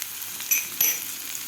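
Capsicum, yellow capsicum, tomato, carrot and peas sautéing in a pan, a steady close sizzle with two brief clinks of a utensil against the pan.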